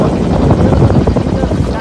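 A boat engine runs loudly at sea with a steady close rumbling drone and no pause across the brief moment.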